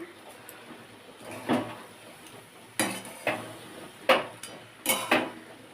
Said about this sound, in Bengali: পাঁচ সাত মিনিট ধরে আমি ভালো করে নাড়াচাড়া করে নেব